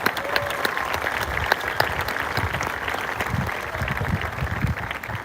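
A crowd at a school ice cream social gives a steady, full round of applause for the school principals and athletic director. The clapping is dense and even throughout, with no talking heard.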